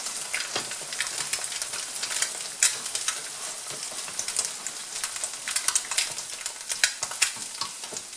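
Buckwheat galettes fry in a pan while being stirred, a close, crackling sizzle broken by irregular sharp pops and scraping stirs, with no voices.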